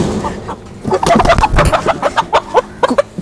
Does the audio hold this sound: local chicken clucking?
yes